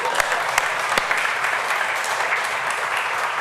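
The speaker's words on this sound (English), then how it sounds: "you can applaud to that." Audience at a Cobb County Republican breakfast meeting applauds, a dense, steady wash of clapping from a crowded room with a few sharper nearby claps, continuous throughout.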